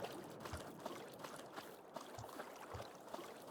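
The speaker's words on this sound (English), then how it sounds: "I'm hearing noise of a dog drinking, but I don't know where the dog is." A dog laps water in Farming Simulator 22: a few soft, wet, splashy bursts spaced irregularly over a steady, fairly loud background wash, with no talking.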